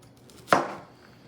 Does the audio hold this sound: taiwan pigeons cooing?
no